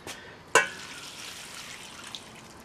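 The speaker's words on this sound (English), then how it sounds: "we put the water in" Water poured over fenugreek sprouts during dehulling lands in a sudden short splash, then settles into a soft, steady trickle and hiss, fairly faint and close, with no voices.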